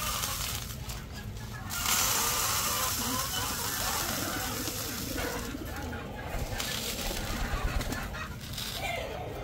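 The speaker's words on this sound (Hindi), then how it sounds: "आप देख सकते हैं उस साइड पे पिजन्स को मैंने दाना डाल दिया" Pigeons fed scattered grain, with bird calls and cooing mixed into a steady, busy outdoor background for the whole stretch.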